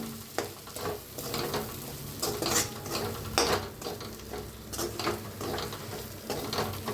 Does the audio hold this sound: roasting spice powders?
yes